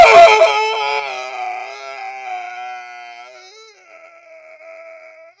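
A person's voice imitates a scream, a loud, high, wavering wail that starts strong and slowly fades out over several seconds.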